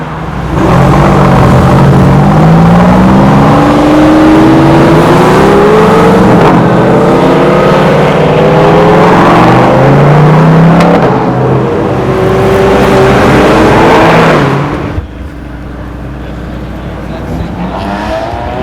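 A sports car at a cars and coffee meet at Manhattan Beach revs hard and pulls away, its loud engine rising and falling through the gears, close by, then cuts off sharply near the end.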